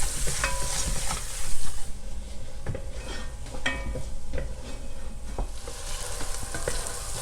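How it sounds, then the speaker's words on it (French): Browned cooking juices scraped loose in a hot pan while making Flemish carbonnade, a steady sizzle with scattered utensil scrapes and clicks, close and fairly loud throughout. "On gratte bien les sucs, c'est ce qui donne du goût."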